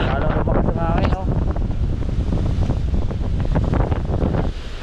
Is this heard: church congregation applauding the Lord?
no